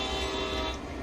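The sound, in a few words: train passing in video game Train Sim World 2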